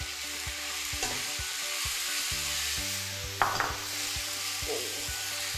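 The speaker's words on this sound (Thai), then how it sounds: "ตามด้วยข้าวไรซ์เบอร์รี่ดิบนะคะเอาลงไปผัดรวมกันเลย" Raw riceberry rice stir-fried in a pan, a steady close sizzle broken by repeated scraping strokes of a spatula and a few sharp clinks against the pan, with no talking.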